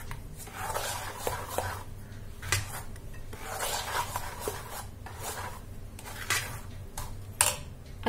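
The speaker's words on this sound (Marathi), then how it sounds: "चांगलं हलवून घेऊया." Fasting idli batter is stirred in a bowl, with faint, irregular scraping and rubbing strokes of a spoon against the sides.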